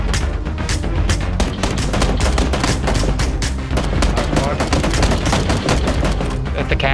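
Relentless PlayerUnknown's Battlegrounds gunfire, dense rapid shots and overlapping bursts throughout, loud and close, with some talk underneath.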